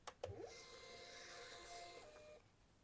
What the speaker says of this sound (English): So you feed the paper through the back.